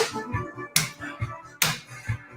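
Rhythmic clapping along with music at a family-friendly drag show, a few sharp louder claps standing out over a steady beat and a low musical backing.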